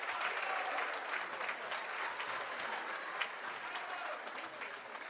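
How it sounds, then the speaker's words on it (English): A gym crowd at a high school women's basketball game between the Alexander Spartans and Nelsonville-York Buckeyes, applauding and cheering steadily throughout, loud and close with a dense wash of clapping. "Everyone started getting back up and started cheering like they were earlier."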